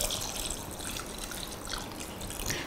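Water poured into a pot of egg biryani on the stove, a steady close trickling and splashing wash that runs continuously without talk.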